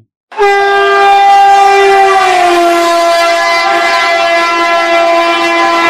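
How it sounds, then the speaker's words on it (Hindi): A locomotive siren sounds loud and close as the train passes, one sustained blast whose pitch drops noticeably midway in a clear Doppler shift, then holds lower as it fades slightly. "लोकोमोटिव सायरन जनरेट करता हुआ ऑब्जर्वर की तरफ आ रहा है और उसको क्रॉस करता है"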